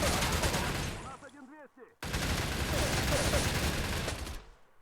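Loud, dense gunfire fills a firefight in the shooter game StalCraft, with sustained rapid bursts, a short break and then another long stretch of shooting.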